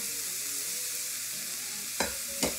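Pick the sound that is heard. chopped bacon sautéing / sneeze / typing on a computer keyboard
chopped bacon sautéing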